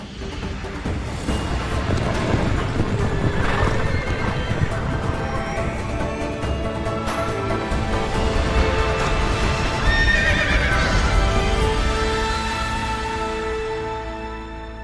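Video game sound effect of galloping horses with whinnying and neighing, a dense continuous rush of hooves and horse calls that swells and fades over the full length, loud and busy with no talk.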